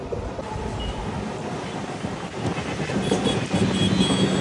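A MEMU passenger train on the Anantapur to KSR Bengaluru route runs on rails near Baiyappanahalli, with a steady loud rumble of wheels and carriages that swells toward the end.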